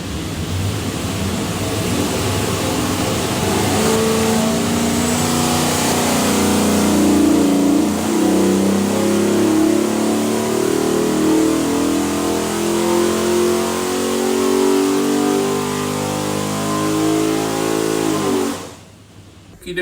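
A 533 hp 408ci LS V8 in a '33 Factory Five Racing Speedstar revs through a full pull on a dyno, a loud, sustained engine roar climbing steadily in pitch for almost twenty seconds before cutting off sharply at the end.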